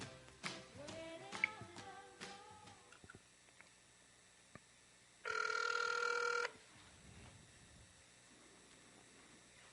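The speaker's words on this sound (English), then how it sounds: "Let's see if we can get Mr. Climas on the phone" A telephone rings once during a call, a steady ring tone lasting about a second, following a stretch of quieter tonal music and clatter and then giving way to a faint background.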